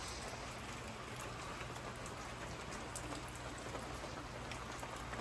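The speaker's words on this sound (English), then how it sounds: "It's starting to rain pretty good now." Rain falls steadily and fairly heavily as a tropical storm sets in, an even, close hiss of drops on surfaces that stays constant without pause or voices.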